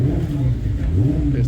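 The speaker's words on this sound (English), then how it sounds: "This is the 916 Ducati." A Ducati 916 motorcycle at the Manx Grand Prix on the Isle of Man revs close by, its deep, loud engine note rising and falling in waves with people talking over it.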